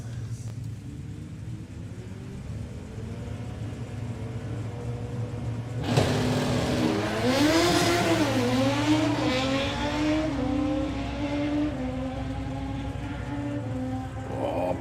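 950-class drag racing motorcycles launching off the line at the Easter Nationals, a loud engine roar swelling midway with rising revs over a steady rumbling background.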